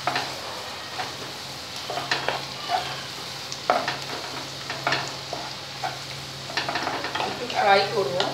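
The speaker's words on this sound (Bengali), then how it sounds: "একটু ফ্রাই করব।" Ginger garlic paste frying with onions in a pan, a soft sizzle broken by repeated scraping and stirring strokes, close and moderately loud.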